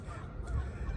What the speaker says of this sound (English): in March as the geese go flying by